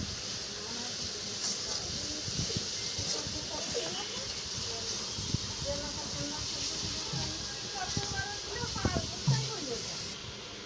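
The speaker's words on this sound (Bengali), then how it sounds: "এবার এটাকে লাল লাল করে ভেজে নেব।" Grated coconut with sugar and salt fries in a pan, giving a steady, even sizzle and hiss with faint scraping stirs throughout.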